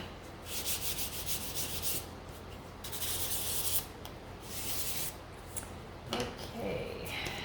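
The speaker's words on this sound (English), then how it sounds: "this one I could sand now because it's good and dry" Sandpaper is rubbed against the painted hat of a small sunflower gnome figure in bursts of close, raspy scratching strokes separated by short pauses.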